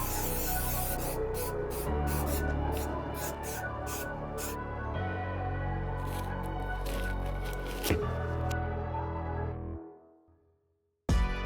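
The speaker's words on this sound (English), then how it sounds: "Let's go outside and spray a thick," A long continuous hiss of aerosol spray coating a suede Jordan 14 sneaker outdoors, close and steady for several seconds, with brief interruptions before it fades out.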